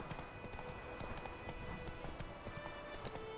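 Horse hooves clip-clopping at a run in The Witcher 3, a steady rapid rhythm of close, moderately loud hoofbeats over continuous game ambience.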